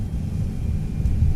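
Thrust reversers on an Airbus A320 with IAE V2500 engines roaring after touchdown in a flight simulator, a steady low rumbling roar that holds throughout.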